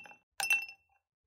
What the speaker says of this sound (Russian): В бокал отправляем несколько кубиков льда.